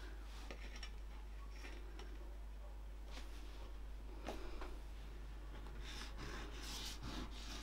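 Tailor's chalk drawn across fabric to mark a seam allowance, faint scratchy rubbing strokes repeated at irregular intervals over a low steady hum, close and quiet.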